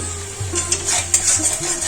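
Onions lightly fried in a pan sizzle steadily as a little sugar goes in, with soft stirring scrapes and faint clinks of a spoon against the pan.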